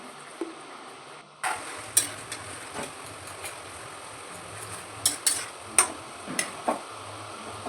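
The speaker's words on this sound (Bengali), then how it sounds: "এবারে আমি বাদামটা গুঁড়ো গুঁড়ো করে নেব" Nuts being crushed in a pan with a little water while cooking a vegetable dish, heard as a series of sharp utensil taps and scrapes against the pan, spaced irregularly over a quiet background.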